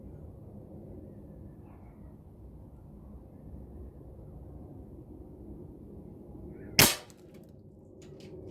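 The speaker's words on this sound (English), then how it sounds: "We got the NSA slugs, 29 grain, trying to shoot out the candle wick." One sharp, loud gunshot cracks out as a 29-grain slug is fired at a candle wick during outdoor trick shooting, standing alone over a steady low background rumble.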